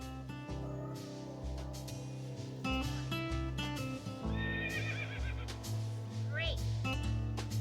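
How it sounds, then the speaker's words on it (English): An electronic push-button animal toy plays a recorded horse whinny over a looping tinny music tune, the neigh trilling high near the middle and again toward the end. "That was a horse."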